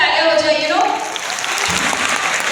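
Applause from an audience at a school celebration event in Kolkata, a dense steady wash of many hands clapping throughout, with voices mixed in underneath.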